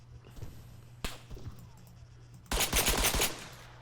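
Gunfire in the Arma 3 military video game, a few sharp single shots early on, then a rapid burst of loud automatic fire over a low steady hum.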